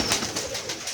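Pigeons coo in a brief, soft burst of low, throaty pulses heard up close.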